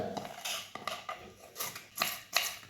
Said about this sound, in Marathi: सर्व काकडी अशीच आपण चरचर बारीक अशी चिरून घेऊया।